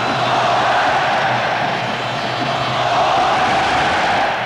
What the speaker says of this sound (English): Sounds of the bull ring now from the crowd.